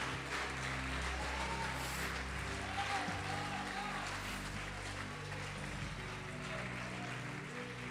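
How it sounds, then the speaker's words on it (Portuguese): Church congregation applauding during a worship service, a steady broad wash of clapping that fills the whole stretch, mixed with a low sustained music bed and some voices. "Pode aplaudir e adorar."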